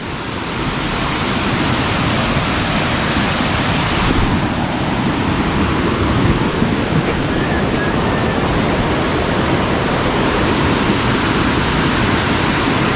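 Strong river current rushing in the rain during a flood, a loud, unbroken roar of churning water that holds steady throughout.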